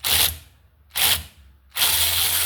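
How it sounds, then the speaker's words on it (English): A hand ratchet turns a 7 mm Torx bit on the brake rotor screws of a 2012 Volkswagen Jetta 2.0 during front brake work, giving three loud, close bursts of rapid clicking separated by brief pauses, the last one continuing, with no talking. "you're gonna come in with this, the 7 mil Torx"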